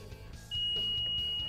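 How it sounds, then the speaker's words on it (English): A Nissan X-Trail T33 tailgate gives one loud, steady high-pitched beep lasting about a second to confirm a new height setting, over faint mechanical background noise. "wait for the loud beep"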